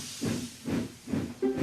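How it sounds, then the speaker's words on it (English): A steam locomotive hisses in a run of rhythmic chuffs, about four loud, close bursts of steam in quick succession. A faint whistle-like tone joins the last burst, and no one speaks. "Soon Emily was steaming up hills and through valleys."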